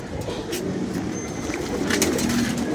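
Pigeons coo in a home loft, soft low murmurs repeating over a steady background hum with faint extra noise, no talk.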